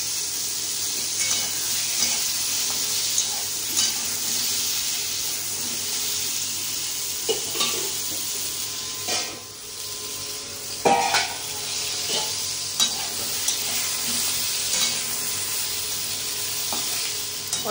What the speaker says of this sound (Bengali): পটলগুলো উল্টে পাল্টে ভেজে নিই।